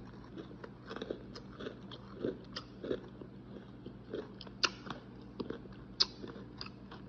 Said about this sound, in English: Y'all hear the crunch in the fries?